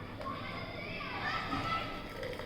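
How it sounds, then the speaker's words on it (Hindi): Children play outside in a residential housing society, their distant chatter and shouts blending into a continuous, moderately loud hubbub. "बाहर से गाइस आप लोगों को पीछे बैकग्राउंड में आवाज़ सुनाई दे रही होगी, इन बच्चों की आवाज़ आ रही थी।"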